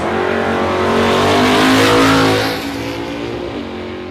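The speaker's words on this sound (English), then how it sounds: "Another good pass there for Ryan Durant, 606, 114" A drag racing car at Warwick Dragway roars loudly off the line and screams down the strip, the engine note climbing before fading into the distance as it pulls away.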